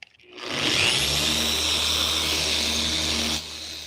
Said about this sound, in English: Always keep the polisher moving too. Don't let it sit in one place very long. It is sanding.